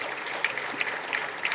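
Applause from an audience at a Tamil public speech event, a steady wash of clapping hands with scattered sharper claps, moderately distant and without talk over it.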